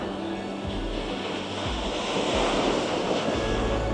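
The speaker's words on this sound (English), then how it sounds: "the sound of the ocean and the waves crashing, it's magnificent" Atlantic waves crash steadily against rugged rock formations on the Madeira coast. The surf roars continuously and close, with wind buffeting the microphone and no talking.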